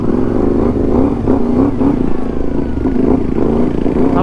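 A CFMoto 450MT adventure motorcycle engine on a ride at Mount Pinatubo, running steadily and loud close up with a rough, pulsing drone and some clatter throughout.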